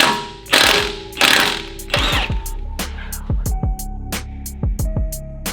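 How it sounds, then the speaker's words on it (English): A hand ratchet clicks in quick metallic bursts while working lug nuts off the wheel of a Toyota Supra MK5, near and loud, with pauses between runs of clicks. "we're using way too much force to get these lug nuts off."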